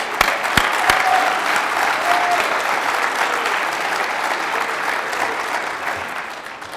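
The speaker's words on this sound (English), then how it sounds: "I want to give Rob another big round of applause" Conference audience at ShmooCon applauding after a talk, a full, steady wash of clapping from a big room with a couple of faint whistles early on, slowly tapering toward the end.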